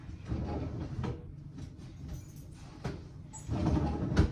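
A household drawer slides open and shut while towels are put away, giving a few soft wooden thumps and a sliding rumble at close range with no talking.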